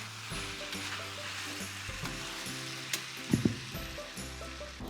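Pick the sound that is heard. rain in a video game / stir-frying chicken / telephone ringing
stir-frying chicken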